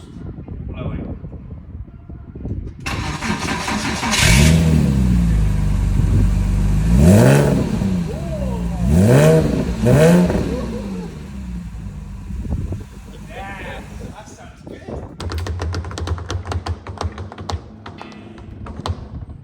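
A Porsche Boxster engine with a new exhaust revs up hard several times with a throaty, sporty exhaust roar, rising and falling, then settles to a rumbling idle with clicking and tapping nearby.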